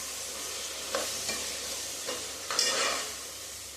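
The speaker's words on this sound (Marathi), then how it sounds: "परत एकदा मिक्स करून घ्यायचं." Washed basmati rice stirred in a pot for lunch, giving a few soft scraping and swishing strokes about a second apart over a low, steady background hiss.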